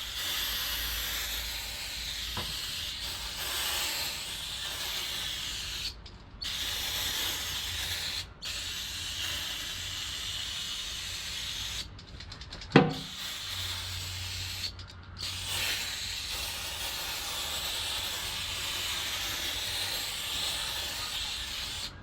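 Long steady hiss of a nearly empty aerosol spray can, broken by a few short pauses, with a sharp click partway through; close and fairly loud.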